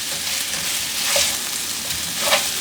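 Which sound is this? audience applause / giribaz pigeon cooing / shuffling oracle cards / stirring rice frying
stirring rice frying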